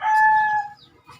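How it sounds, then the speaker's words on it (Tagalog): A rooster on a backyard farm with chickens raised for sale and fighting gamecocks crows once, loud and close, its drawn-out call fading, followed by a brief softer cluck. "meron din kami mga manok dito."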